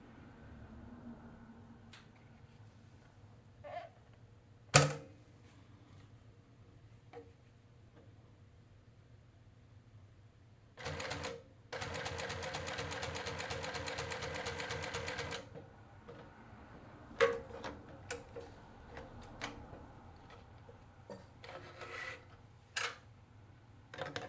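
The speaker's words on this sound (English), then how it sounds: "let me sew a little part for you" A post-bed sewing machine stitches two layers of 2-ounce leather in a steady mechanical chatter of about four seconds, framed by scattered clicks and taps in a quiet room.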